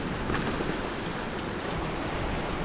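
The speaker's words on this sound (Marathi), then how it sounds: "तुटलेला बर्फ पा कसा चालला वाहून." A mountain stream of meltwater carrying broken ice in winter Spiti Valley flows past in a steady, noisy wash with a windy rush, continuous and close for a few seconds.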